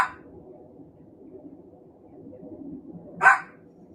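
A single dog bark rises briefly and fairly loud near the end, over a low steady background murmur.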